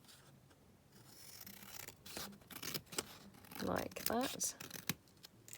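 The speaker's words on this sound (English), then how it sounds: "I'm going to cut this down here" Scissors snip paper while an altered book is being made, a few short crisp cuts close by, with a voice talking briefly over the cutting.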